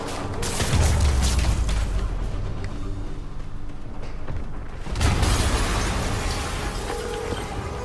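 An explosion in the Spider-Man PS4 video game: a sharp, broadband blast opens the clip, the rumble fades, then a second heavy boom hits about halfway through and trails off.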